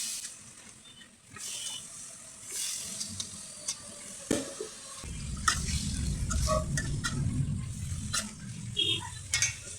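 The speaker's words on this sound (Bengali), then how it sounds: "মশলা কষানো হয়ে গেছে, এখন আমি সবজিগুলো ছেড়ে দেব।" Vegetables drop into a pan of spiced oil for a Bengali fish curry and set off a loud, steady sizzle, with a clatter of stirring and utensils before it.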